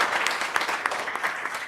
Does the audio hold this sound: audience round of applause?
yes